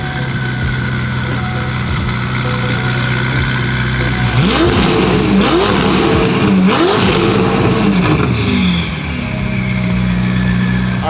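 A billet-block performance car engine on a dyno idles with a low hum, then barks through several sharp, loud revs in quick succession before settling back, close and alone.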